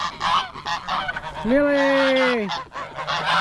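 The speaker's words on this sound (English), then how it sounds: "you can't hear me anymore because the geese. They are so loud." Geese honk loudly close by, a long drawn-out nasal honk in the middle amid a scattered chorus of other honks, while a person calls out briefly.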